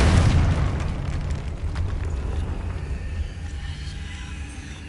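A Confringo blasting spell bursts in a tomb in Hogwarts Legacy, opening with a loud booming explosion that rolls into a long, fading rumble.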